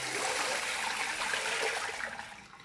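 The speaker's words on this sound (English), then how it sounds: "You can dump out the sandy water." Sandy water from rinsing herbs pours out in a brief rushing splash that tapers off as the flow slows, close and fairly loud.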